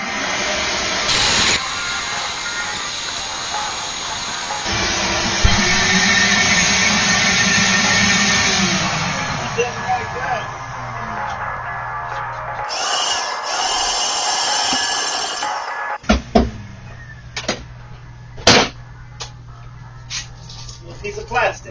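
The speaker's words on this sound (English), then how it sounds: "Let's vacuum it out." A shop vacuum sucks out debris from a Kwik-Way XC valve grinder, a loud steady whooshing roar with shifting tone, stopping partway, followed by clatters and knocks as someone talks.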